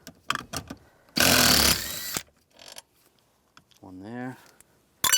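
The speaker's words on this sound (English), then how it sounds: "I'm going to use a 13mm socket, take the 3 bolts out" A 13mm socket turning bolts out of a bracket on a 1998-2010 Volkswagen Beetle, heard as brief close ratcheting clicks and a burst of mechanical whirring, with short quiet gaps between actions.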